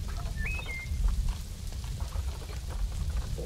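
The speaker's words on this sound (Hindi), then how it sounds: "बारिश आ गई, अब क्लाइंबिंग नहीं कर रहे।" Rain falls in the zoo-building video game Planet Zoo, a steady hiss of rain with a faint distant rumble, alone without talk.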